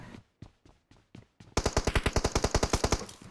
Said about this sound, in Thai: ตอนนี้ได้ยินเสียงปืนจากในวงนะครับ